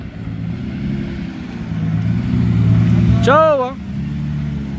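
A Lamborghini Murcielago pulls away from a car meet, its deep engine rumble running steadily throughout with people talking nearby and a brief whistle-like tone near the end.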